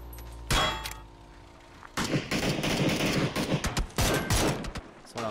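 Suppressed gunfire in the video game PUBG crackles in dense, rapid bursts of muffled shots, a brief volley and then a longer sustained stretch of firing with short gaps.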